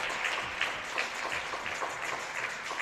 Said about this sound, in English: To get you up and clapping for these young athletes.